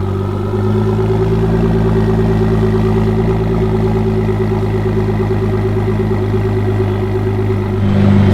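A car engine, not a V12, idles steadily at close range with a strong low hum and even tone throughout, with a slight rise in revs near the end.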